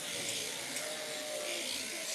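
Electric shears buzz steadily through a sheep's fleece during a shearing competition, a continuous high mechanical whir with faint background noise and no clear speech.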